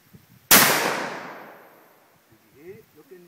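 A single sharp rifle shot cracks out nearby at a target during sighting in, its echo trailing off for over a second, followed by a few quiet words of talk.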